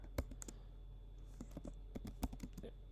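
Code being typed on a computer keyboard: a close, irregular run of crisp key clicks in short bursts with brief pauses, no voice.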